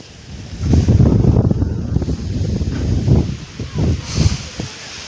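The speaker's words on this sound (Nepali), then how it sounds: "हावा चलिरहेको छ।" Gusting wind roars across the microphone outdoors, a steady low rumble with stronger surges, while cold rain approaches; no talk is heard.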